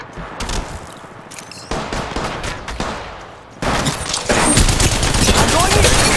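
Video game gunfire, an SMG and other weapons in a battle royale match: dense, loud bursts of automatic shots that build into nearly continuous firing with explosive booms, with game voice lines mixed in.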